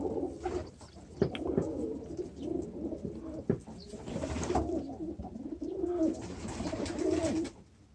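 Pigeons coo softly and continuously inside a pigeon loft, several birds overlapping in low rolling calls with occasional faint chirps and wing or perch knocks, fairly quiet throughout.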